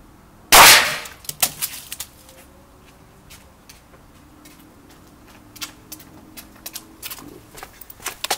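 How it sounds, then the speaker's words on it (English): Sharp, loud crack of a Gamo Swarm Magnum .22 air rifle pellet striking an apple, one strong burst near the start followed by faint clicks and small knocks with no talk. "put the camera here and we'll shoot the apple, see what happens"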